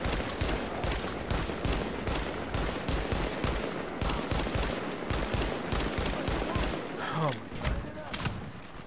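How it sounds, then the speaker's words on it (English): Dense gunfire rattles through a firefight in The Division's Dark Zone, rapid loud automatic bursts with heavy shotgun-like thuds packed close together, continuing almost without pause under a talking voice. "Oh, that fucker has a shotgun."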